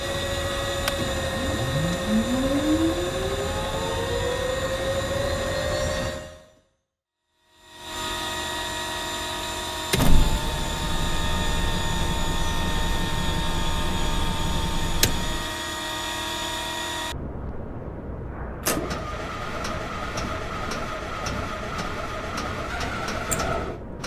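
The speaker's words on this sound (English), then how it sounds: "You can see the lights dim and hear the electric motors slow down." In Microsoft Flight Simulator, a Black Square Duke aircraft's electric motors drone with a steady whine and hum with tonal overtones. It cuts out briefly, then settles into a slightly lower, slowing hum.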